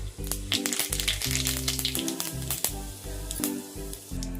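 Cumin seeds crackle and sizzle in a couple of spoons of hot oil, a busy spattering hiss with sharp pops, heard under loud rhythmic background music.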